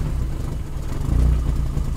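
A small turbocharged car engine idles steadily during live mapping, a loud, low, even rumble with a slight swell in the middle, heard close up with no talk.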